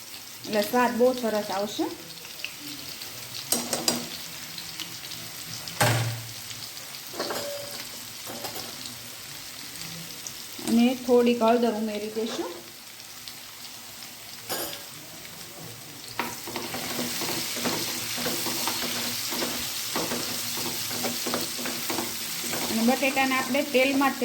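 Potatoes, grated ginger, mustard seeds and cumin fry in hot oil in a pan, giving a steady sizzle broken by scraping stirs and clattering utensil knocks, with a brief voice in the background.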